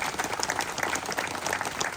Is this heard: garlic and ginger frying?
no